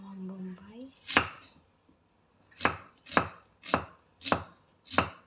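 Onion being chopped on a board for a squid dish: six sharp, distinct knife chops, one early then five in a steady rhythm, close and clear with a brief faint clatter at the start.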